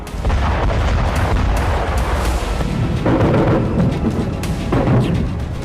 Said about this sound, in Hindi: ब्लैक सी फ्लीट का मुख्यालय सेवास्तोपोल फिर धमाकों से गूंज उठा।